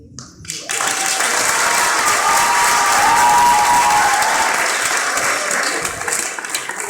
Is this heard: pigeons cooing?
no